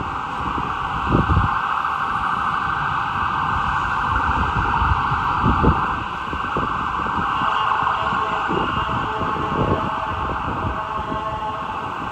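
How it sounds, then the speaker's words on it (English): An emergency vehicle siren wails continuously and loud throughout on a New York City street near the Meatpacking District and the High Line, holding a steady tone over low rumbling traffic and occasional thumps. "I'll wait for the siren because I can't really compete with it."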